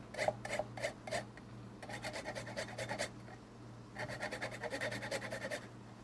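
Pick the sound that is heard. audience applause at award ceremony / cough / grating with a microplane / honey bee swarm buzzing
grating with a microplane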